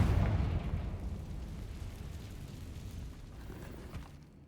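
A Confringo spell explodes in Hogwarts Legacy: a heavy blast hits right at the start, then fades into a long, low rumbling decay.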